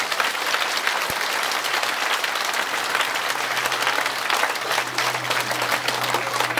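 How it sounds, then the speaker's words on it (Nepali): Sustained, loud applause from an audience at a Nepali religious gathering, a thick, continuous roar of many hands clapping with a low steady hum beneath and no speech. "उहाँको लागि एकचोटि जोरदार तालीको साथ"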